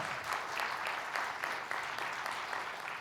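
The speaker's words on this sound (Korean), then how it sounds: "큰 박수 부탁드립니다" Church congregation applauds warmly at a Korean Presbyterian service, a steady, even wash of clapping from many hands, fairly soft and continuous.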